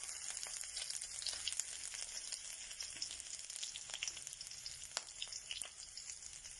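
Crushed ginger and garlic paste fries in a pan for a mushroom curry, a close steady sizzle with crackling pops and occasional stirring scrapes, no voices.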